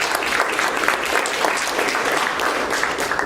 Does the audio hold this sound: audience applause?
yes